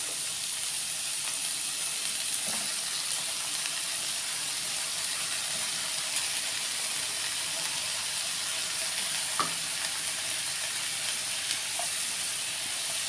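Cut potatoes frying in a pan give off a steady, soft sizzle and hiss, with a few faint scrapes and taps of stirring.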